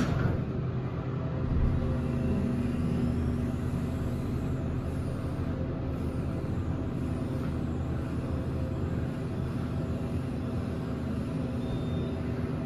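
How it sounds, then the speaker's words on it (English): Hydraulic elevator motor at the 15th Street subway station in Philadelphia running in a steady low hum and rumble, continuous and moderately loud with a faint high whine above it. "Let's listen to this motor."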